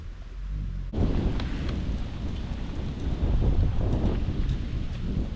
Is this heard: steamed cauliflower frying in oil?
no